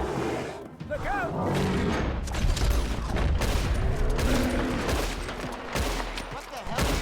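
Gunfire from a shootout in the video game Red Dead Redemption 2, a dense, continuous fusillade of booming shots and thuds over seven seconds, with shouting voices mixed in throughout.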